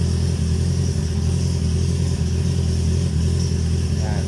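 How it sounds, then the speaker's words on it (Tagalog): A Honda CB650R motorcycle with its catalytic converter deleted runs loud and close, its engine holding a dense, raspy drone for the whole stretch with no voices over it. "I will show you or I will let you hear the sound of the catalytic cut delete"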